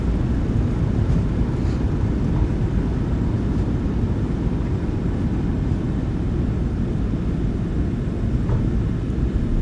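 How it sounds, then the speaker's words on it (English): Thrust reversers roaring on a PMDG 737-800 decelerating down the runway after landing, simulated in MSFS2024 with an add-on sound pack; a steady, loud, low broadband rumble holds throughout without voices. "Reversers are out. Decelerating."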